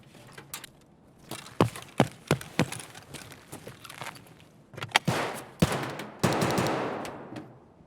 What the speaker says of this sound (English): Lots of shots going on.